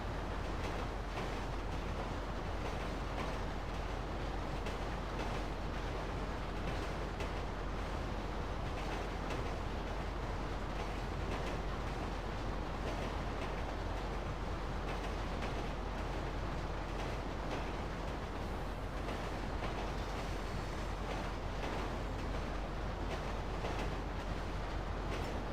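An Amtrak train running in the Roblox game WorldwideRP gives a steady, continuous broadband rumble and rush that holds at an even level throughout, with no voices.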